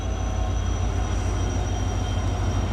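A Bhavnagar passenger train hauled by a Sabarmati-shed WDP 4D diesel locomotive stands stopped at a platform, its engine giving a steady, loud low rumble with a faint whining tone above, unbroken and with no talk.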